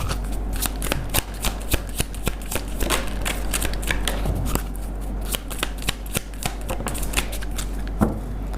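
Tarot cards shuffled by hand in steady, rapid riffling bursts, close and continuous, with no talk.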